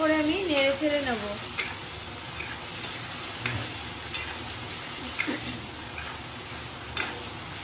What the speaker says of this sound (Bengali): এবার আমি এখানে যে সর্ষে আর হলুদ লঙ্কার গুঁড়ো দিয়ে রেখেছিলাম সেটা আমি দিয়ে দিলাম, দিয়ে আবারও ভালো করে আমি নেড়ে ফেড়ে নেবো